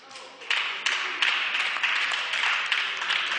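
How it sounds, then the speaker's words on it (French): Applause in a parliamentary chamber, a steady patter of many hands clapping with repeated sharper bursts, fairly close and continuous throughout. "Il est déplorable de voir que cela mérite des applaudissements"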